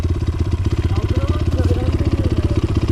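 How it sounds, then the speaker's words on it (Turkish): A dirt bike engine on a forest cross ride pulses in a fast, steady throbbing rhythm, loud and close throughout, with a faint voice underneath. "Ver gazı, ver kaldır."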